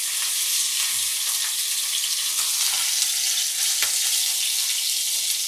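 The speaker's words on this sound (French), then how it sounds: "on va le mettre dans la poêle. On démarre la cuisson très fort." Chicken pieces sear loudly in a very hot frying pan for a French chicken Normandy dish, giving a steady, dense hiss with no talk.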